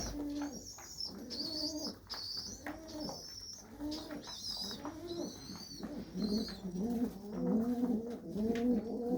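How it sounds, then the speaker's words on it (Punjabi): Several pigeons coo repeatedly in overlapping, rolling calls, fairly close and steady throughout, at a pigeon loft in Khosa Pando village near Moga, Punjab, with a few higher chirps from other small birds above them. "ਇੱਕਦਮ ਐਕਟਿਵ ਨੇ ਜੀ ਪੂਰੀਆਂ ਕਬੂਤਰੀਆਂ ਤੁਸੀਂ ਦੇਖ ਸਕਦੇ ਹੋ"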